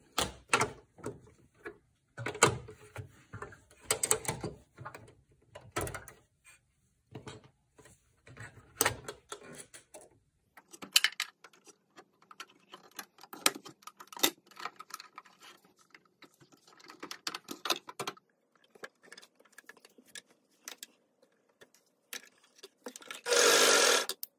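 Sewing machine running a rolled hem through two layers of fabric for a reversible kids' sleep set top, heard as bursts of rapid mechanical stitching with pauses and handling clicks between, close and clear with no talk.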